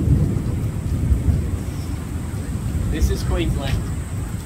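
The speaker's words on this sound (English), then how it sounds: "Let's hear the sounds of thunder!" Steady heavy rain drums through a thunderstorm at Australia Zoo in Queensland, a broad low rumble running underneath, heard from under a shelter while a person talks over it.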